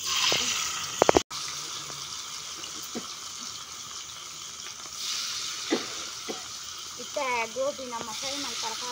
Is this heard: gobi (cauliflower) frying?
yes